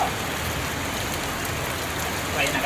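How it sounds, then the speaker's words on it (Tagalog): A dense, loud wash of rain pours down continuously, a constant broadband roar with no pauses. "Lumalakas ang ulan."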